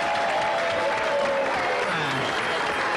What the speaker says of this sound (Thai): ขอเสียงปรบมือเป็นการต้อนรับทั้ง3สาวอีกครั้งหนึ่งค่ะ